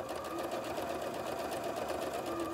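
A sewing machine stitches a curved seam, running in a steady, continuous whir at close range for the whole stretch, alone without talk.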